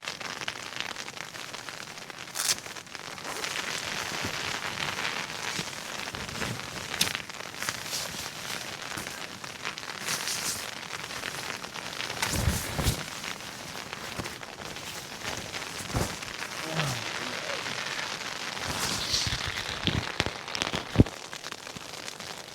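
Hail patters and cracks steadily on a camping tent, a dense, continuous spray of impacts with sharper, louder strikes scattered throughout.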